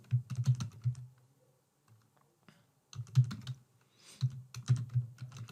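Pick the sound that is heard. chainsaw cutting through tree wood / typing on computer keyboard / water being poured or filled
typing on computer keyboard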